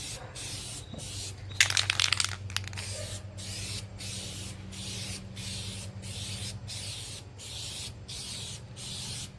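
Spray gun laying a second coat of paint on the roof of a Fiat 500, heard as a regular series of close, even hissing bursts with short pauses between passes.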